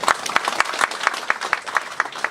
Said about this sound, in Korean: 군수님께 큰 박수 부탁드리겠습니다.